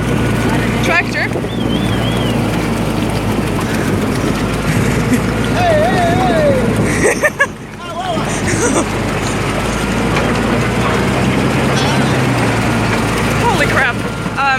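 A tractor fording a river near Pescadores, Peru, with a loud, steady engine drone and rushing water throughout, briefly dipping midway, while voices exclaim over the noise.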